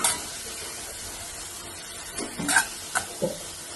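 Capsicum, cabbage and carrot being sautéed in a pan for chicken Manchow soup: a faint background sizzle broken by a few short stirring scrapes and clatters near the end, with no talking.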